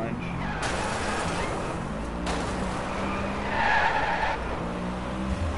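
A car drifting in the DriveClub racing game, with a steady engine roar and tire squeal swelling around the midpoint, heard under someone talking.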